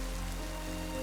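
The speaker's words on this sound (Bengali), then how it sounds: "তারপর খুব জোরে বৃষ্টি হতে লাগে।" Heavy rain falls in a steady, dense hiss with no break, fairly loud and close, over a low hum.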